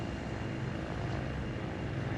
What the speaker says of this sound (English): This one is a helicopter I also built for this update.